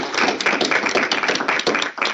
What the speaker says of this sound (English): can we give Katie a big round of applause?